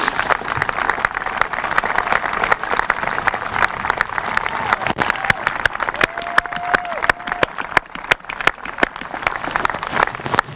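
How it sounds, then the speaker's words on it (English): Sustained applause and crowd clapping at a school commencement ceremony, honoring parents and guardians, dense and continuous with scattered sharp claps and a brief whistle-like tone near the middle. "stand up and you give them a round of applause"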